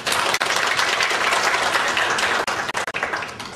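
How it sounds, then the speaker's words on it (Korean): Conference audience applauds after a keynote on corporate purpose, a steady wash of many hands clapping that stays loud throughout and breaks off briefly near the end. "다시 한번 박수 부탁드리고요."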